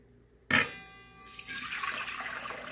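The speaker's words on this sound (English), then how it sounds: "pour the water into the mixing bowl" Water splashes into a mixing bowl in a sudden burst, then settles into a steady pouring trickle that swells again, close and alone.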